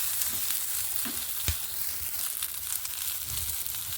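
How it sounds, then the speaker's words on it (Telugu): Onion pieces and cumin fry in hot oil while paneer fry is being cooked, giving a steady close sizzle with a few soft stirring knocks and no talking. "ఒక చిన్న సైజు ఉల్లిపాయను ముక్కలుగా కట్ చేసుకొని ఆయిల్లో వేసేసుకుందామండి"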